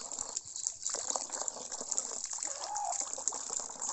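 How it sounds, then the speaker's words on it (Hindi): Water gushes steadily from a tap or pipe into a bathing area, a continuous, fairly close splashing rush with no pauses and no voices over it. "और पानी आ रहा है"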